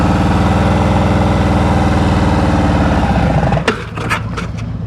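A motorcycle engine idles steadily with a deep, even rumble, then abruptly stalls and cuts out, leaving a few loose clunks and rattles close by.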